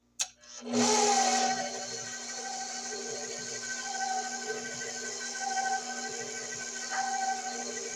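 A stand mixer on its first gear churns coconut cake batter. The motor starts with a click and rises to a steady whirring drone that holds throughout, with faint scraping tones from the bowl and no speech.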